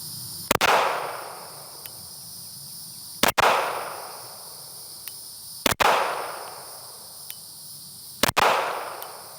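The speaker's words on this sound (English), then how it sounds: "And now we've got the 509 cc Edge, again without compensator." Four sharp, loud pistol shots from an FN 509 CC Edge without a compensator, spaced about two and a half seconds apart, each with a ringing echo that decays over a steady outdoor background.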